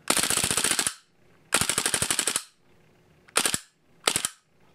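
A KWC Desert Eagle airsoft pistol fires on full auto in rapid, loud mechanical rattling bursts: two long strings of about a second each, then two short bursts, with quiet gaps between and no speech.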